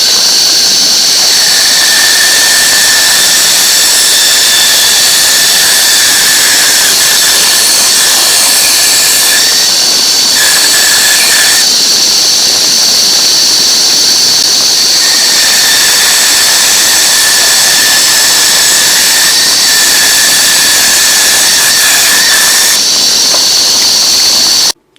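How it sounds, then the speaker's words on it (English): Bandsaw cutting through wood, a loud, continuous high-pitched whine and rushing hiss that runs throughout. Its pitch and strength shift slightly in stretches as the cut goes on. "The main reason I'm okay with using the bandsaw for this operation"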